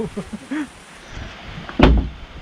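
Soft voices murmur briefly, then a door blown by typhoon wind slams shut with one heavy, sharp thud close by.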